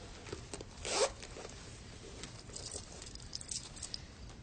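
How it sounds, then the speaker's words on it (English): A zip pocket on clothing is unzipped during a police search, giving one quick, close rasping zip near the middle, with faint rustling and small taps before and after. "Try the zip pockets."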